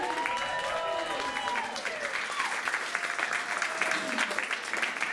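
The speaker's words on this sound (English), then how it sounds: "Let's give them one last round of applause" A crowd claps for ten presidential candidates at a staged event, with sustained, even applause and some faint cheering voices mixed in throughout.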